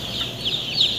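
Broiler chickens clucking in a dense flock of over 20,000 in a closed-system house, a constant overlapping chatter with a few sharper calls rising above it.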